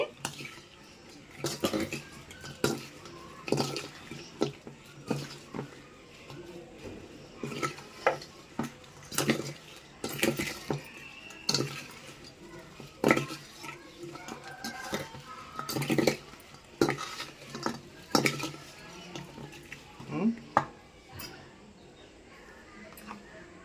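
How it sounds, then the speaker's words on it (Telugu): Chilli powder is worked into brinjal pickle in a vessel, with repeated scraping and clinking strokes of a spoon against the pot in an uneven, steady rhythm for the whole stretch, close and fairly clear. "కారం, ఇవన్నీ బాగా కలిసేలా కలుపుకోవాలండి."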